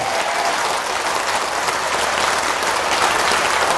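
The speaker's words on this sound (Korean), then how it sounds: "이 박수 소리가 뜨거운" A gathered audience at a Buddhist dharma talk by a monk in Daegu applauds warmly, a loud, dense, sustained clapping that stays even throughout with no speech over it.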